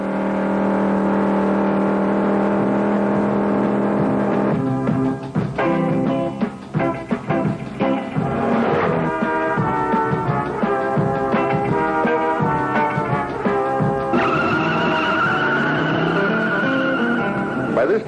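A 1969 AMX, a 3,000-pound car on wide oval tires, launches hard down a quarter-mile strip with plenty of wheel spin. Its loud engine roar holds steady and full throughout, with tire noise mixed in.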